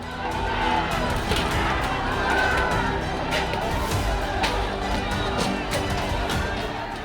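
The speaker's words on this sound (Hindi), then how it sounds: "हजारों की उग्र भीड़ बेहद हिंसक तरीके से आगे बढ़ रही थी।" A violent crowd of thousands surges forward in Baloda Bazar, Chhattisgarh, a dense, continuous roar of many voices with shouting and scuffling, loud and sustained throughout.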